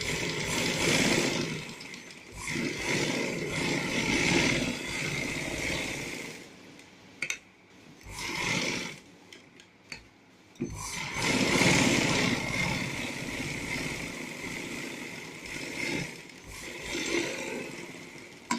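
A sewing machine stitches along a fabric neckline edge in a close, continuous whirring buzz, stopping briefly twice before it runs on again, with no speech.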